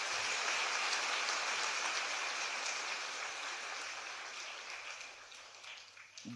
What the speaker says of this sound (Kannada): ಅವರಿಗೊಂದು ಜೋರಾದ ಚಪ್ಪಾಳೆ ಹಾಕಿ.